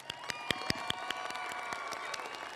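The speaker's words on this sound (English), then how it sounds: "One more round of applause for our graduates" Crowd applause and some cheering for graduates at a 2017 commencement ceremony, distant and faint, with a steady wash of clapping, a few sharp individual claps and a faint held tone underneath.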